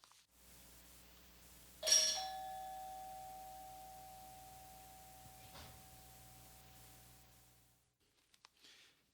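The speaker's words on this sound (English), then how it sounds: "So I have this weird doorbell here" An unusual doorbell rings once, a single bright metallic strike with a long, slowly fading tone, heard close in a quiet room, followed by faint soft knocks.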